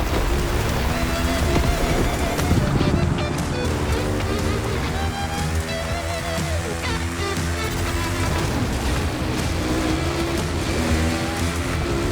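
A Kawasaki KX450 dirt bike in The Crew Motorfest, its engine droning and shifting pitch steadily throughout, loud and close amid a dense wash of rushing noise, with no voices.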